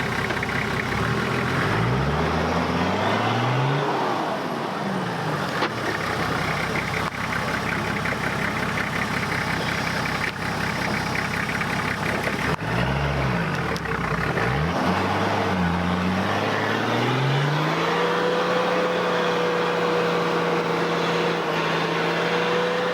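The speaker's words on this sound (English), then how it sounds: "With all four wheels spinning, the patrol battles forward inch by inch." Nissan Patrol off-roading through deep mud, its engine revving loudly and repeatedly with rising and falling pitch as all four wheels spin, a continuous close, strained roar with no talk.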